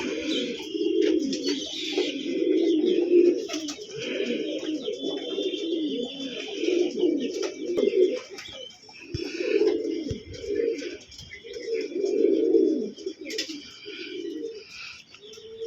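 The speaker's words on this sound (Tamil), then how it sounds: "இது ரெண்டும் நார்மல் புறா தான்" Ordinary domestic pigeons coo steadily in repeated soft, throaty phrases, close and fairly loud, with a faint higher chirp now and then and no talking.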